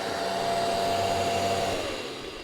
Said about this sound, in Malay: Ini proses ada halia sikit, kita blend sekali.